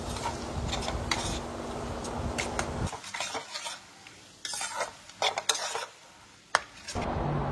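Spice paste with Kashmiri chilli powder stir-fried in oil in a pan, loud sizzling alongside rhythmic scraping and clanking of a spoon against the pan, with a brief quieter lull midway.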